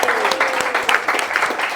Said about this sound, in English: I'd like to just give a big round of applause to Mandy.